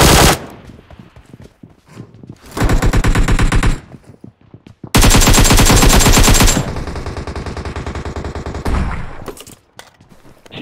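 Loud, close bursts of rapid shotgun fire from PUBG Mobile gameplay, several sustained volleys with brief gaps between them and no talking over the shots.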